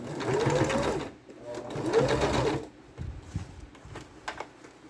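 A sewing machine stitches a fabric bag made from a grocery bag, running in two steady bursts of about a second and a half each, then stopping to quieter handling clicks and fabric rustles.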